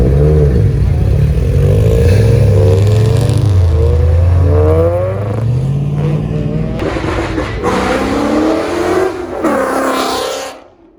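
A track-built race car revs hard at a car meet, its loud engine note climbing and falling in sweeping harmonic bands for about ten seconds before cutting off, with crowd noise behind.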